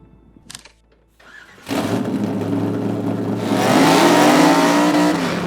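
Race car engine at North Wilkesboro Speedway cranks after a brief click, catches and settles into a loud, steady idle, then swells into a harder, louder rev near the end.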